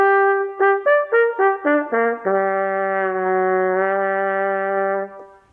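A brass instrument plays a Wurm practice drill, a quick run of short stepped notes descending. It then holds one long sustained low note that bends at the end, all close and clear with no talk.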